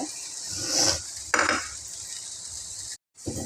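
Broccoli stir-fry with ground coconut masala being stirred in a pan: soft scraping and clinking of a utensil over a faint sizzle, with a brief sharper knock midway and a short dropout near the end.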